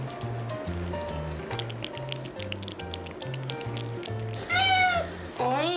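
Several cats gathered around eating snacks give out repeated meows over a steady patter of chewing and small wet eating noises, with a few louder drawn-out cries near the end.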